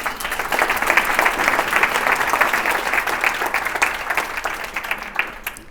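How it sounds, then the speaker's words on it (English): Steady applause from a crowd at a marketing presentation, dense clapping sustained throughout and tapering slightly at the end. "let's give a warm applause to the team."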